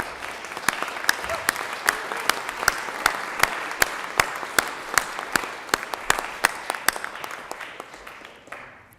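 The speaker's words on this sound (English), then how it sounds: "give them a nice round of applause" A room of people in the Colorado Senate chamber applauding steadily for several seconds, sharp individual claps standing out above the wash before it fades away.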